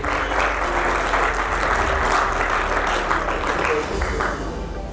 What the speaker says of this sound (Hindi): एक बार आप लोग तालियों से स्वागत कर लीजिए